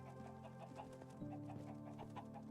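Soft, short clucks from a flock of Minecraft chickens, faint and scattered over a steady humming tone, no one talking.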